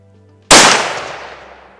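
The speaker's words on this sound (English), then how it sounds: "I'm gonna go ahead and just shoot one more" A single loud, close rifle shot fired while zeroing a Leupold VX Freedom 350 Legend scope at a 50-yard target. It is a sharp blast that rings out and fades over about a second.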